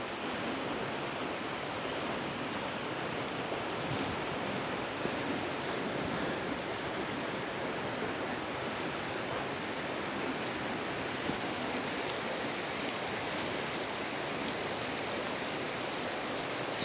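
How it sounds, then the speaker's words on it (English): A creek flows through a remote canyon, its steady broadband rush of water continuous and fairly even, neither close nor distant, with no voices or other sounds breaking through. "The creek meandering through here in a nice S-curve."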